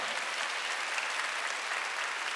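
Congregation clapping hard during a Sunday church service, dense steady applause filling the room throughout with no voices over it.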